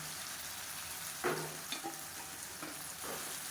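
Raw plantain pieces fry in oil with a tomato masala, giving a soft, steady sizzle broken by a few gentle scraping stirs of a spoon in the pan.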